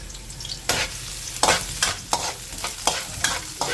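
Ilocano garlic frying in a pan for pork binagoongan adobo, a bright crackling sizzle punctuated by regular stirring strokes about every half second, close and with no talk.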